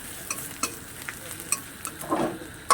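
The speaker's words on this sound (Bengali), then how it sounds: "রসুন আর আদাটাকে ভালো করে ভেজে নিতে হবে" Chopped garlic and ginger fry in hot oil with a low, steady sizzle, while a spoon knocks and scrapes the pan in a few short, close stirring taps.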